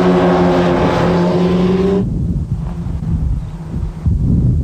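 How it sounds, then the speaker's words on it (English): A Kawasaki motorcycle roars loudly down a straight at full throttle, then the engine note drops abruptly as the rider brakes, leaving a lower, rougher rumble. "Gary sneaks past out of the slipstream and goes ahead on the Kawasaki as they jump up and put the brakes on."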